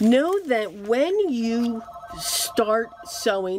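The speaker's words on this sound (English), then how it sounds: "I'm so sorry, that's my phone." A mobile phone rings during a sewing lesson with a short electronic ringtone, heard between and under a person talking nearby.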